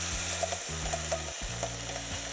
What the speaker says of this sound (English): Put the pan back on the fire and add the bacon and let it fry for a bit.